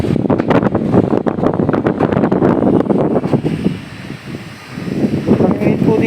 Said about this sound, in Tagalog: Buti na lang may kunting hangin.